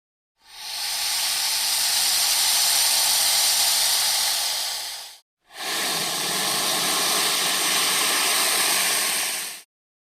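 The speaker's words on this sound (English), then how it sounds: "It's the python snake." A python hisses in an animal sound-guessing game: two long, steady, breathy hisses of several seconds each with a brief pause between them.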